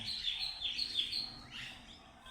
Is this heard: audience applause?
no